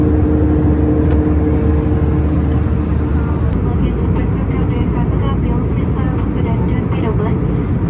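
Cabin noise of an Airbus A320 in flight in economy class, a steady broadband engine and airflow roar with a faint low hum, continuous and loud throughout.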